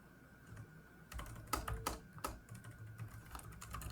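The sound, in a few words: typing on a computer keyboard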